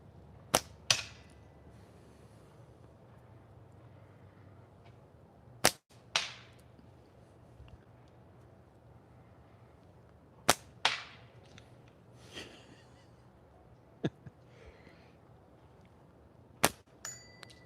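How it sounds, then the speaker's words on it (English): A prototype Double DeeeZ Slings slingshot fires shots at small metal bells outdoors: about five sharp snaps spaced seconds apart, each followed by a bright, decaying metallic ting. No talking. "See if we can hit some of those little bells out there."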